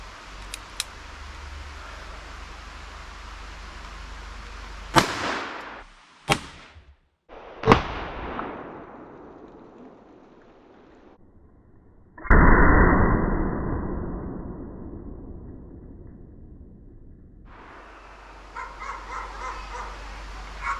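.41 Magnum revolver shots crack sharply and loudly at close range, three separate reports each with a short echoing tail. Later comes a sustained noisy burst, and a dog barks near the end.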